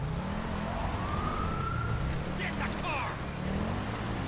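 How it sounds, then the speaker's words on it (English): A police car siren in the video game GTA 5 with the LSPDFR police mod, patrolling in a Charger. The siren sweeps steadily behind game engine and traffic noise while someone talks over it. "truck don't stop for siren"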